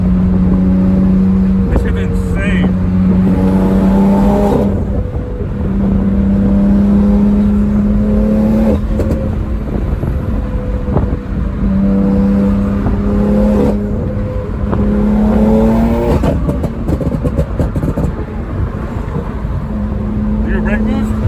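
A turbocharged BMW F80 M3 pulls hard, its engine note climbing steadily through several upshifts with brief dips between gears. The sound is loud and close from inside the car, with some talk mixed in.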